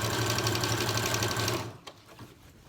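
A sewing machine stitches fabric for a Minion dress around a curve, running with a steady, close mechanical whir for about a second and a half before stopping, followed by faint handling clicks.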